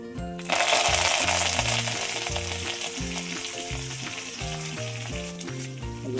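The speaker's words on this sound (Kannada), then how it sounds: "ಎಣ್ಣೆ ಬಿಸಿ ಆಗ್ತಿದ್ದಂಗೆ ಸಾಸಿವೆ ಜೀರಿಗೆ ಹಾಕೊಳ್ಳಿ. ಸಾಸಿವೆ ಸಿಡಿಬೇಕಾದ್ರೆ ಕರಿಬೇವು," Mustard seeds, cumin and curry leaves frying in hot oil for a ridged gourd stir-fry, a loud dense sizzle that bursts in and stays steady, with faint spattering pops and a low tonal hum underneath.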